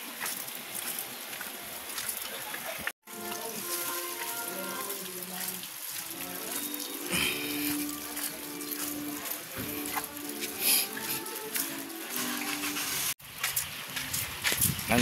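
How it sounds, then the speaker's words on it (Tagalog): Rain falls steadily as a continuous hiss and patter, building in strength, with people talking and other household sounds over it. "Lumalakas yung ulan rito."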